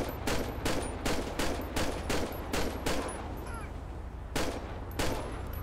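Gunfire in the LSPDFR mod for GTA V: a rapid series of sharp, evenly spaced shots, a brief pause, then a few more bursts, loud and close.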